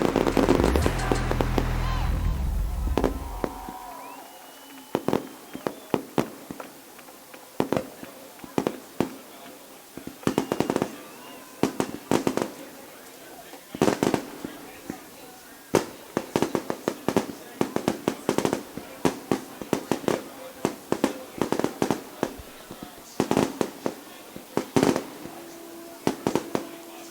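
Fireworks burst over a high school football game between the Valparaiso Vikings and the Merrillville Pirates: after a brief loud opening, dozens of sharp, crackling bangs pop in rapid, irregular succession across an open outdoor field.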